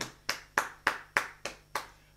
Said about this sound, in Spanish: Me vuelvo y aplaudo.